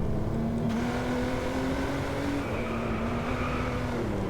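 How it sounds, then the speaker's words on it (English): Jaguar XJ220 in British Racing Green driven through Old Town, Scotland in the racing game Driveclub; a steady, loud engine drone holds a sustained note throughout with a small dip midway, no voices. "driving my British Racing Green Jag as a celebration of an end of an era"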